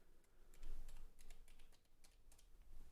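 Keys being pressed on a custom computer keyboard running homemade firmware: a quick, irregular run of light clicks, close and fairly quiet, with no talk.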